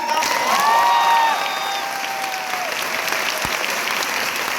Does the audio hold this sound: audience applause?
yes